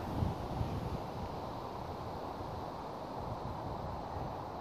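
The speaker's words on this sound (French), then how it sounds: "il y a une grosse brise de vent qui souffle vers moi" A strong breeze blows steadily across an outdoor microphone as a dense, even rumbling roar that holds at a constant level with no gusting breaks and no speech.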